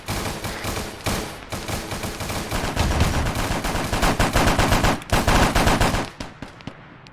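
Sustained gunfire in the Arma 3 military video game: dense machine-gun bursts and heavy shots rattling continuously, loud and close, easing off near the end.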